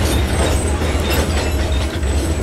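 Steady, loud rumble of a video-game train with tank cars rolling along rails, with dense rattling and faint clacking throughout and no voices.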